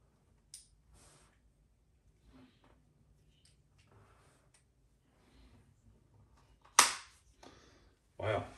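An action figure's ball joint snaps back into its socket with one sharp, loud pop near the end, followed by a second click, amid faint handling rustles and quiet breaths.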